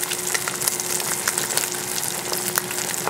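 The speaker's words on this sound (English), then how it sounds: "we're going to allow the fish to cook skin side down for about a minute on the high heat" Fish fries skin side down in a hot pan over high heat, a steady, dense sizzle and crackle with soft pops throughout, close and continuous.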